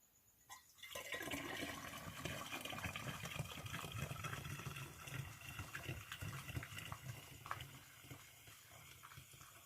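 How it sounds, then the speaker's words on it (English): Lemonade poured through a funnel into a bottle, a steady close gurgling stream of liquid running continuously for several seconds without talk. "So now we can fill the bottle with the remainder of the lemonade."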